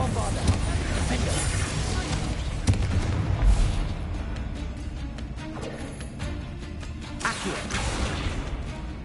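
Bombarda blasting-spell explosions in Hogwarts Legacy: deep, booming blasts rumble through a loud, continuous battle din, with voices speaking over the noise.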